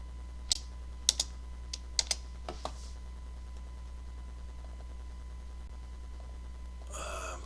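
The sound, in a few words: computer keyboard typing, pressing backspace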